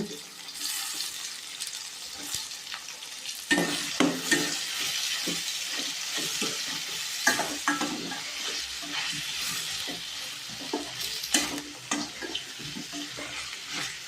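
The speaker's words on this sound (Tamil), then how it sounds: "கத்திரிக்காய் போட்டு வதக்கிடுங்க" Eggplant sautés in a pan for vegetable kurma, a continuous oily sizzle broken by the scrape and clatter of a spoon stirring the pieces, close and fairly quiet, with no talk.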